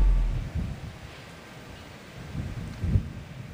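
Strong Super Typhoon Nando wind with steady rain batters Santa Ana, Cagayan, giving a constant rushing roar broken by heavy low gusts buffeting the microphone.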